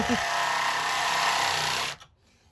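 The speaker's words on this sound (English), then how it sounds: "I've never used a step bit before, amazingly, but I love it. I'm gonna drill the bug with it." A loud, continuous power drill whine as a step drill bit grinds through a metal Jeep Cherokee bumper, then cuts off abruptly, leaving near silence.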